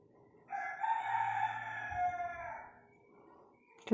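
A rooster crows once, loud and drawn-out, on a misty morning, its call rising and holding before trailing off into quiet farmyard background.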